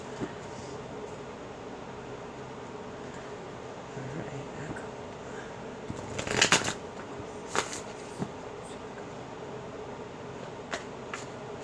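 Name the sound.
tarot cards being shuffled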